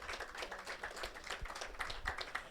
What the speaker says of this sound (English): let's give June a round of applause